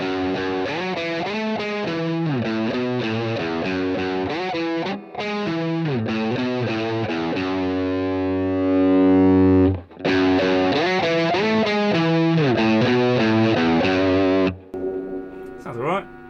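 Overdriven electric guitar through a Universal Audio Lion amp emulation pedal set to a plexi super lead tone, playing loud continuous riffs and sustained chords with brief gaps, one held chord in the middle.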